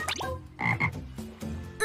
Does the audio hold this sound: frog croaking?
yes